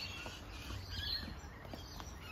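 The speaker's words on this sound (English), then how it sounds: "How peaceful is that? Listen to those birds." Birds chirp lightly in the garden of a house for sale in Unley Park, with scattered faint calls over a soft, steady outdoor background.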